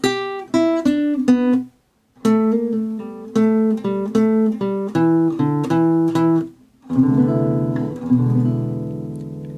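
Acoustic guitar plays a slow bluesy lick of plucked notes and double stops, pausing briefly, ending on a ringing strummed chord.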